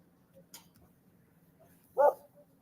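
A single short dog bark, close and fairly loud, in an otherwise quiet room with faint background shuffling.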